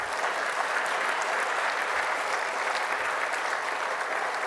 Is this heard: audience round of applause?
yes